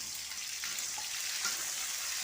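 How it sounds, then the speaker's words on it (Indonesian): Spices being stir-fried in a wok give a steady, bright sizzling hiss that runs unbroken through the whole stretch, with no talking over it. "Oke, kita tumis semua bumbunya."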